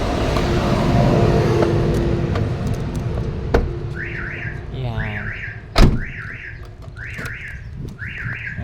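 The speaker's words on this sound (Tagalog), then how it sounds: "Mag-a-alarm yan." A Commuter Deluxe car alarm, set off when a rear door is forced open, chirps in a repeating series of rising electronic warbles after a door clunk, with a voice briefly speaking and traffic in the background.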